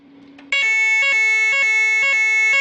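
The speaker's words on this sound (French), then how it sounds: "Une alarme rouge vient tout juste de se déclencher." After a brief low tone, a loud electronic red alarm for an aircraft in distress at a French air-safety centre kicks in, sounding a harsh, steady tone broken by short regular pulses about every half second.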